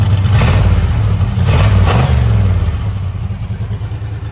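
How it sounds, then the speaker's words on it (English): A 1976 Pontiac Trans Am V8, just fitted with new fuel injection, revs up under light throttle blips, its loud close rumble rising and falling through a few surges before settling back toward idle. "Give that throttle a little bit"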